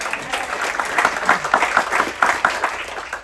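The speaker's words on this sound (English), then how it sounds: "Big applause for Nani, thank you." Warm applause rises from a gathered audience at a crew celebration, a dense rattle of clapping with a few sharper individual claps standing out, fairly close and steady throughout.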